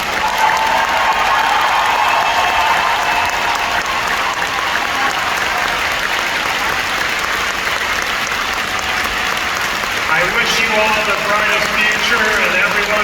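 Sustained applause from a large convention audience, dense and steady throughout, with a few voices and some musical tones rising near the end.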